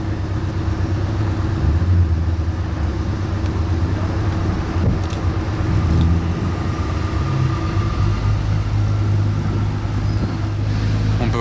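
A Ferrari F80 driven by a valet rumbles in Monaco, its engine a steady low drone that holds throughout, with faint voices and street noise in the background.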